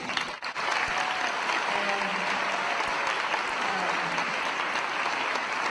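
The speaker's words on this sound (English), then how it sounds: "I think deserves another round of applause" Audience applause fills a town hall meeting in Haverford, Pennsylvania: a dense, continuous wash of many hands clapping, loud and sustained for the whole stretch.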